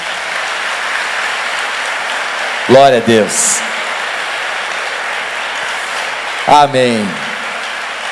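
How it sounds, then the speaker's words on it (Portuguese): A church camp congregation claps in steady, sustained applause throughout, while a voice calls out twice over the noise. "Dê uma salva de palmas a Jesus."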